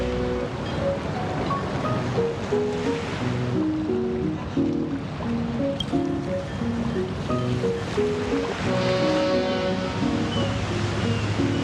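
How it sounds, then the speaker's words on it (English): Continuous rolling ocean waves and water wash with a low engine-like rumble from an arriving boat in the video game Honkai: Star Rail, steady and full, no talking. "The boat has arrived."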